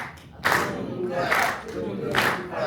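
An audience at a drummer's performance at The Wright claps along in a call-and-response rhythm, three loud group bursts of clapping and voices spaced about a second apart, with quieter crowd noise between them.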